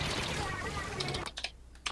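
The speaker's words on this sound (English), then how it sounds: "Who the fuck is typing like crazy?" Fast clattering keystrokes on a computer keyboard in quick irregular bursts, faint and close, heard under and after voices talking over a game.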